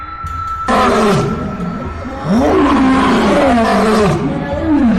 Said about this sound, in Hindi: तभी एक जोरदार दहाड़ गूंजती है।